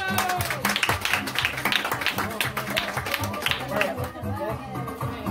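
Small community group clapping for a contest winner, close and lively bursts of hand claps mixed with chatter and talking voices, tapering off toward the end.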